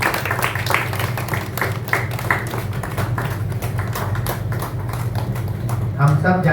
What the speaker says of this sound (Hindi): साथियों, तालियां बजती रहनी चाहिए।